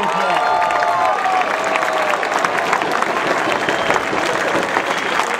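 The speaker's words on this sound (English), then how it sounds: "Let's give First Sergeant Anthony Kuhn a round of applause" A crowd applauds steadily at a ceremony honoring a first sergeant during a Buffalo Bills uniform launch event, dense sustained clapping with faint cheering underneath.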